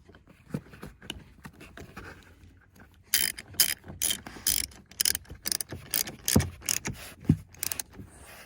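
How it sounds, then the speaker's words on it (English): A ratchet tightens 13 mm bolts on a Mercedes W220 rear Airmatic strut: quiet fumbling at first, then a run of brisk, close, repeated ratcheting clicks in bursts, with no talking. "just get all of our 13s back up there, find them and tighten them down"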